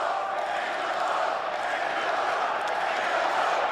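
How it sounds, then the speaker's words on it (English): A large crowd at an Angelo Nationals 2025 sports event roars in a steady, distant wash of cheering, a continuous broad swell of voices with no distinct words breaking through. "Do you hear that? That's the whole crowd outside of the Jay Woo contingent."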